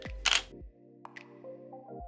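A camera shutter fires while taking a 30-second exposure photo: a close, crisp mechanical burst followed about a second later by two sharp clicks and a soft trailing whir, with no talking.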